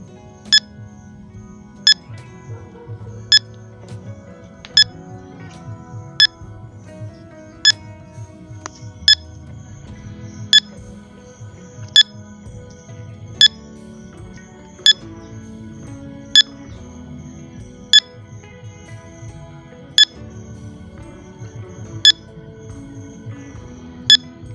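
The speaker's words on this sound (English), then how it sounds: "we are going to hear this beeping sound" Sharp electronic beeps from a smartphone WiFi analyzer app repeat at a steady pace, roughly one every second and a half, over a low murmur of background noise.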